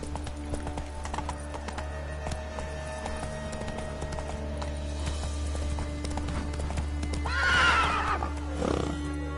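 The horse Roach galloping in a video game, rhythmic hoofbeats clip-clopping steadily over a low droning background, ending with a loud neigh and snort near the end.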